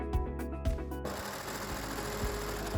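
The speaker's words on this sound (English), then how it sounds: "We apply clips here and we sew them straight away." Sewing machine stitching a pocket seam on children's pants: a few short whirring bursts, then a steady close run of rapid mechanical stitching, no talking.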